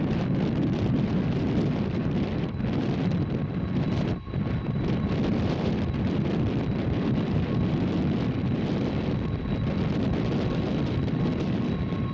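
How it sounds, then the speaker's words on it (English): Strong wind gusts at 35 miles per hour across an airport runway, producing a loud, continuous roaring rush with microphone buffeting that barely lets up. "By late afternoon, the winds were gusting across the runway at 35 miles per hour."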